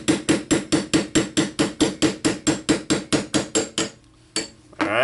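A hammer taps a 1/16 inch punch on a bench block to drive out a pin from a KSG shotgun trigger part, a quick regular run of about sixteen sharp metallic strikes, close and loud, then two last separate taps.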